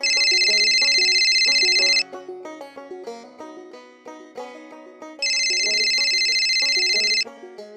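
A telephone ringtone sounds in two loud, bright bursts of about two seconds each, separated by a stretch of quieter melodic tones, with no voices over it.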